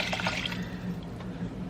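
Water being poured into a cooking pot in place of dry white wine while making a pappardelle bolognese, a steady faint splashing trickle with a few drips.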